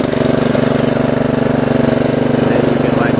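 Craftsman R110 30-inch riding lawnmower engine running loud and close after starting, a steady rapid chugging drone with a regular pulsing beat and no pauses.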